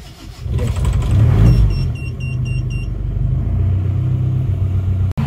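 An Isuzu Panther diesel engine runs after repair, a loud close rumbling idle that swells briefly as if revved, then settles into a steady low drone with a faint rhythmic tick and no talking.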